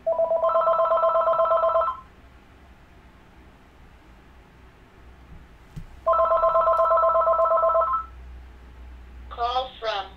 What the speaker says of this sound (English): That phone will stop ringing in just a moment.